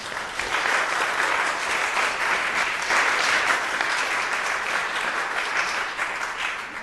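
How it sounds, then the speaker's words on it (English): Audience applause in a Board of Supervisors chamber, a dense, continuous round of clapping from many people that holds steady throughout, loud and close, with no speech over it. "their applause is prohibited in the chamber"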